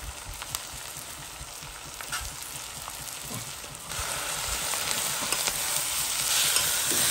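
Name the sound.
food sautéing in a pan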